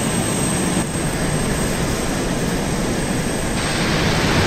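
Airplane engine in the video game Arma 2, a loud, steady jet-like roar with broad rushing noise that holds constant for the whole stretch, close and uninterrupted.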